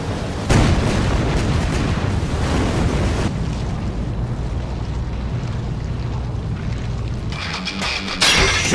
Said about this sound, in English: Each tag summons more tags, resulting in concentrated and focused consecutive explosions!